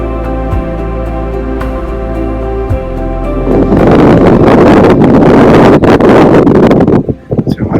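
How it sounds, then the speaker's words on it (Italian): Strong wind buffets the microphone at a small autumn lake at Lagustelli di Percile, roaring loud and gusty throughout and swelling even harder partway through, with a person speaking over it. "c'è un vento incredibile"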